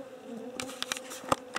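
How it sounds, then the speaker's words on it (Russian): Mosquitoes buzzing in flight near a lake on a long hike, a faint thin whine with short louder passes, close by in quiet outdoor air. "Слушай, комаров вон там летает."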